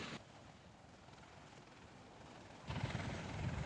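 An MV-22 Osprey tiltrotor flying a demonstration at an airshow in Texas gives a steady, distant rotor rumble that swells louder near the end, with no voices.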